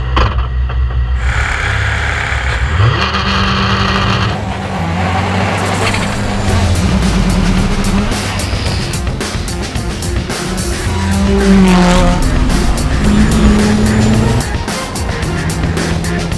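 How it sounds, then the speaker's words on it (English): A Volvo S60 and the Iron Knight truck drag racing a quarter-mile strip in pouring rain: loud, close engine roar with rising and shifting tones, a hiss like an air brake early on, and continuous wet road noise throughout. "First up is the drag race, a quarter of a mile, or to be more precise, 402 meters."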